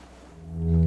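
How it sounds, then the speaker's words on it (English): Distant cargo ship signal horns in Disco Elysium, a low steady tone swelling from faint to loud over less than a second, with no voices. "Signal horns echo in the water."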